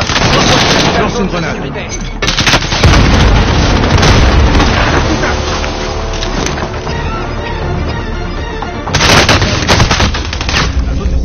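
Grenade blasts and rapid gunfire in a video game, loud bursts of automatic fire punctuated by heavy booms, with voices speaking over the chaos.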